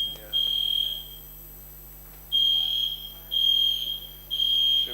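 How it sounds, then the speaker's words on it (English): A building fire alarm beeps in long, piercing tones at an irregular pace across a room. People talk quietly in the background. "It is the fire alarm"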